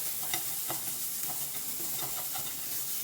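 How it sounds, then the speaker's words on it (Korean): Japchae ingredients are stir-fried in a pan for the Korean cooking exam, giving a steady loud sizzle with soft rhythmic scraping strokes of the spatula throughout. "자, 윤기 나도록 볶아줍니다"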